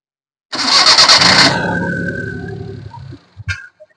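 A Maruti 800 car with a starting problem cranks loudly for about a second, catches, and settles into a steady idle that fades, followed by a few brief knocks and clicks near the end.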